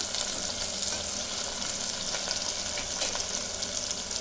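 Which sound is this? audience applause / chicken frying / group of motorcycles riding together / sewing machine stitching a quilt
chicken frying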